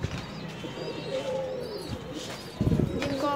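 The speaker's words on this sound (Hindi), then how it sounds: "तो ये देखिए वो दो कबूतर ये है" Two pigeons close by give low, soft cooing calls, murmuring intermittently against faint background noise, with a brief louder rustle near the end.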